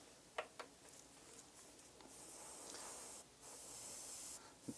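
An airbrush sprays paint onto a miniature of The Blob for Marvel Crisis Protocol, producing faint, close hissing in several bursts separated by short pauses and light clicks.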